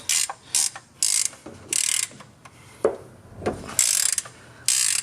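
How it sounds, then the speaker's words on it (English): Ratchet wrench working a stubborn bolt loose on a 6.2 turbo Denali, sharp bursts of fast clicking repeated in quick strokes with brief pauses between, close and loud. "Let's see if I can get this bolt off without getting any oil on my hand or on the camera."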